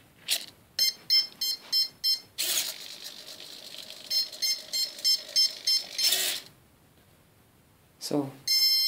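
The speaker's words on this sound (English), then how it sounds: "you just saw the servo spinning rapidly" Servo motors on an Arduino-controlled hovercraft run a startup sequence: a series of rapid whirring bursts in a regular pulsing rhythm, one longer whine, then a pause and a final burst, close by.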